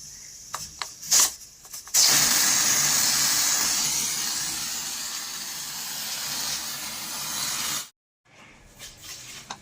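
Pressure cooker loudly venting steam after its whistle while taro greens boil inside, a broad steady hiss running several seconds after a few short bursts, then cutting off abruptly to quiet kitchen noise.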